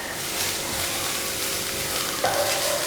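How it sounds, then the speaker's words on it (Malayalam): Chopped vegetables for chapati noodles sizzle and hiss steadily in a hot pan as they are stirred and sautéed, a close, continuous frying crackle with a brief scrape of the spatula. "ജസ്റ്റ് ഒന്ന് വഴറ്റി കൊടുക്കുക."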